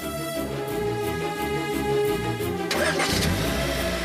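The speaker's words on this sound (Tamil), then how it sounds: "டேய் வண்டி எடுறா." A vehicle engine turns over and catches, then idles with a steady throb before revving up as it drives off, fairly close and loud with no speech.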